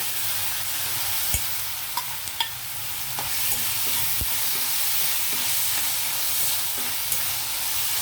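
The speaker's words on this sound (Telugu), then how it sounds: "ఈ అల్లం వెల్లుల్లి పచ్చివాసన పోయేలాగా ఇలా వేగనిస్తే బాగుంటుంది" Ginger and garlic sautéing in hot oil in a pan for a jackfruit seed and potato curry, a dense continuous sizzle broken by a few sharp spatula clicks against the pan, no talking.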